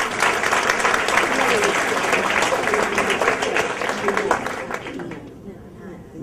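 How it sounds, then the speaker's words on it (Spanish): Sustained applause from an audience at an academic closing session on hospital pedagogy, dense steady clapping that fades out near the end. "aplausos para cada uno"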